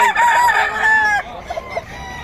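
A Boston White gamefowl rooster crows once, loud and close, then gives a few soft clucks as the call fades.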